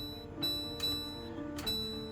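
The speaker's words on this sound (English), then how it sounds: "Setting my timer." A kitchen timer ticks softly in a kitchen during brownie baking, about three faint ticks spaced evenly over a quiet steady hum.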